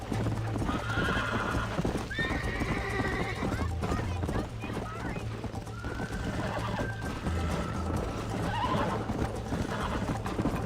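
A horse gallops in the video game Red Dead Redemption, with rapid, steady hoofbeats and occasional neighs throughout, while voices are heard over the busy game soundscape.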